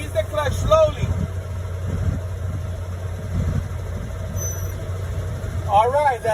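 A truck's idling diesel engine rumbles steadily and close, with a slight strain as the clutch is let out against the set emergency air brake, plus a short hiss and a squeal near the end.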